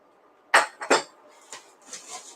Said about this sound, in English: what we do is we fill this glass with ice